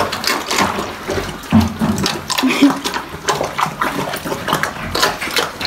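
Water splashes and pours over a farm pig during its bath, an uneven wet sloshing close by, mixed with the animal's shuffling and people talking.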